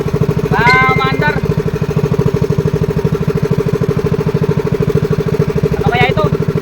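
A small boat engine runs loud and close after a pull start, putting out a fast, steady mechanical chug, while a voice briefly speaks over it twice.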